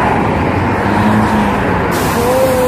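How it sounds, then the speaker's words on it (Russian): A city bus passing on Nevsky Prospekt amid steady roadway traffic, a continuous loud rumble with a brief air-brake-like hiss and tonal whine near the end. "О, и автобус."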